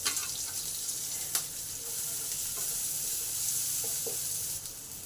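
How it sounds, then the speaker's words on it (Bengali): Chopped onion frying in oil in a pan alongside chilli, garlic and sesame, a steady close hiss of sizzling with a few light stirring clicks and no voices. "এবার পেঁয়াজ কুচিটা দিয়ে দিলাম।"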